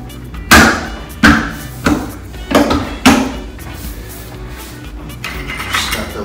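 Five firm thumps at uneven intervals, each a short hollow knock of a paint can lid pressed shut by hand, followed by quieter rustling handling noise.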